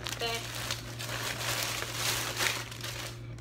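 A plastic bag holding a wig crinkles and rustles close by, with a steady low hum underneath.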